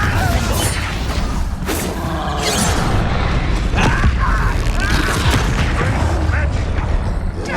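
In the Hogwarts Legacy video game, the Confringo blasting spell sets off booming explosions amid clanking mechanical combat effects, dense and loud throughout, with a voice speaking briefly over the battle.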